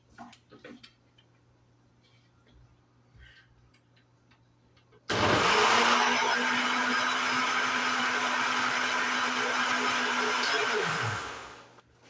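A kitchen blender whirs loudly through a coconut mixture for about six steady seconds, starting abruptly after a quiet pause with faint clicks and winding down at the end.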